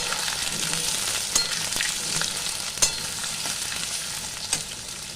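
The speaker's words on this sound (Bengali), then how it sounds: "এবার আমি কেটে রাখা আলুগুলো লাল করে ভেজে নেব।" Cut potatoes fry in a pan of hot oil, a loud, steady sizzle with occasional soft clinks from stirring.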